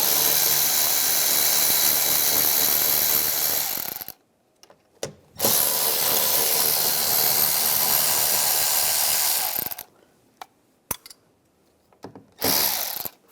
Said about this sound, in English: Using an 8mm socket, take these nuts off.